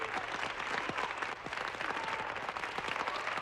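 Applause and cheering break out in the Apollo 11 mission control room after the lunar landing, a dense, steady wash of clapping from many people, moderately loud and continuous.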